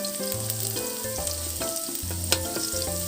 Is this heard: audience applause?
no